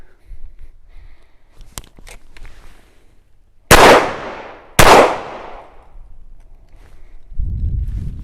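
Two loud, close gunshots crack about a second apart during target shooting, each with a short ringing decay, between quieter handling clicks and rustling.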